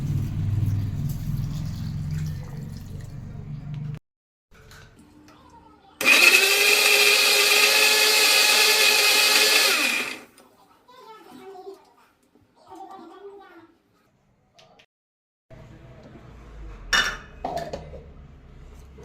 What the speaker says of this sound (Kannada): ಮಿಕ್ಸಿ ಜಾರಿಗೆ ಮೂಸಂಬಿನ ಹಾಕೋಣ